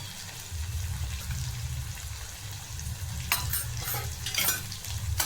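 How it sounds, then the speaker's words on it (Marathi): Chopped coriander and misal masala are stirred and sautéed in a hot pan for Kolhapuri misal, with a steady sizzle under a low burner rumble. Scraping stirring strokes turn louder toward the end. "छान असं परतून घ्यायचं आहे"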